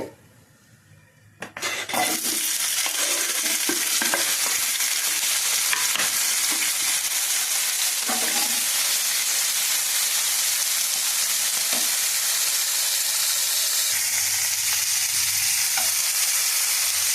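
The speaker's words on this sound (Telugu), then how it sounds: "ఇప్పుడు మళ్ళీ కొంచెం ఆయిల్ వేసుకొని మరి ఇందులో అయితే నేను టమాటా ముక్కలు అయితే వేయించుకుంటానండి" Tomato pieces drop into hot oil in a pan and set off a sudden loud, steady sizzle that holds for the rest of the clip, with occasional stirring taps.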